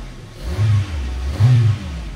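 Car engine with a check-engine fault and RPM not climbing, revved twice in quick succession during troubleshooting, two short low surges rising over a steady idle, close and loud, no talk.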